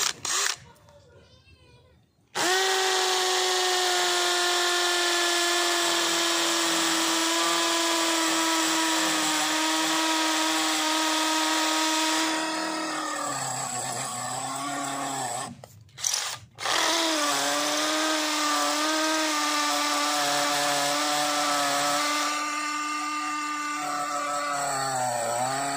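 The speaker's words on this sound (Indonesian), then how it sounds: "Pengujian terakhir saya akan mengebor tembok beton di belakang rumah dengan mata bor ukuran 10 mm." A cordless Worksite CD334H impact drill in hammer mode, second speed, bores into a concrete wall behind a house with a 10 mm Bosch bit. It gives a loud, close, sustained rattling whine that dips under load, with brief pauses and restarts.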